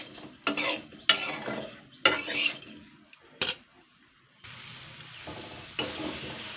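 Eggplant pieces with salt, sugar and turmeric fry in a little oil in a kadai over low heat, with several loud bursts of stirring and utensil scraping, then a steady soft sizzle.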